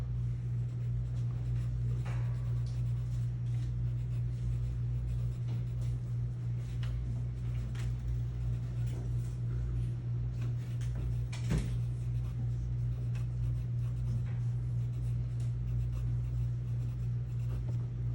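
Steady scratch of pencil on paper making hatching, cross hatching and scribbling strokes, faint and continuous over a constant low hum, with no voices.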